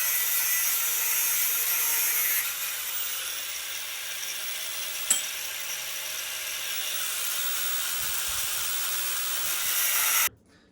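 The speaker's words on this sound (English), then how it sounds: "immediately got to cutting all of the C-channels with my grinder" A handheld grinder cuts stainless steel C-channels held in a wooden jig, giving a steady, loud, bright abrasive whine that runs almost unbroken for about ten seconds with a brief sharp spike midway, then cuts off abruptly.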